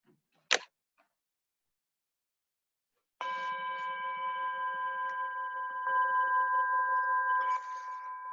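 A meditation bell rings out in a quiet room at a Buddhist mind-training session, its bright struck tone with steady harmonic overtones sustaining and slowly shimmering for several seconds, preceded by a single brief sharp knock.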